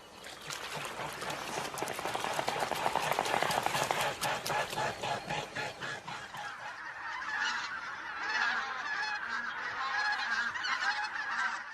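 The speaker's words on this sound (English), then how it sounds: "In October, thousands of bean geese and greater white-fronted geese descend on the Morava's banks." Thousands of bean geese and greater white-fronted geese gather on the Morava riverbanks in October. Their dense honking chorus is mixed at first with a rapid flapping of wings, then settles into steadier calling from many birds.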